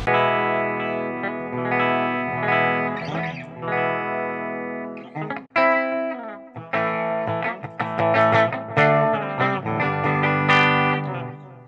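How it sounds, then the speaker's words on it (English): Clean electric guitar played through an Xotic BB Preamp and a Boss Metal Zone MT-2 with both pedals bypassed, ringing chords and single notes with sustained tones and a brief pause midway, steady and close. "Right now I have both of them off, and you can hear the clean section"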